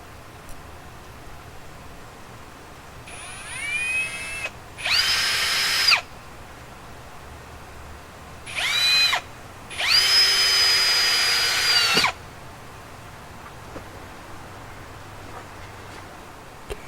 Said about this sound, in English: Drilling the holes makes it a lot easier.